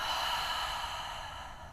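A deep, slow breath out through the mouth during a pregnancy yoga session. It is a soft, steady, airy exhale that lasts nearly two seconds, close to the microphone, with no talking.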